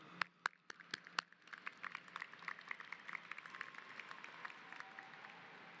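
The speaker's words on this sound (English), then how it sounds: "Give yourselves a round of applause." At a high school class of 2024 graduation ceremony, a few loud, close claps open a long round of applause from the audience, which carries on as a dense, moderately distant patter.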